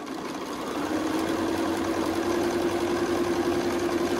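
Sewing machine stitching quilt fabric for a friendship star quilt block: a steady, close mechanical hum with a constant whirring tone that starts softly and holds evenly throughout.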